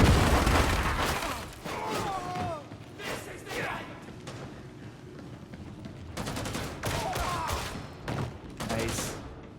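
A grenade blast and bursts of gunfire from the Warhammer 40,000: Darktide video game, with thumps and rapid shots spread through the clip at moderate volume, mixed with game voices and a player talking.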